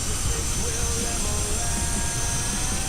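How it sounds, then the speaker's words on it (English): Jet aircraft engines with the throttle advancing to reheat, a steady loud roar and hiss filling the whole clip, voices faintly underneath. "You can hear the throttle going to reheat."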